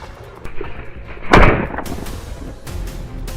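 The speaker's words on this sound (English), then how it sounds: "A barrage of gunfire followed, sending the rest of the herd into a panic." A sharp, loud gunshot cracks out while hunting wild boars, a single dominant blast with a few fainter thumps and reports around it against outdoor background noise.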